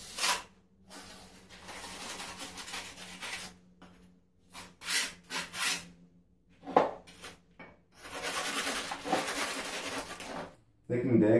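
Trowel pressing and pushing mortar onto a shower curb, giving bursts of scraping and rubbing strokes with short pauses between them, close up and moderately loud.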